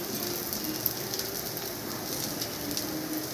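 Steady rain patters on a surface, a soft continuous hiss with faint scattered drops, no voices.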